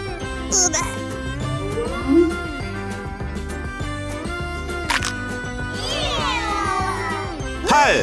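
A couple of cat meows ring out over a bright, bouncy musical tune, one early and one near the end.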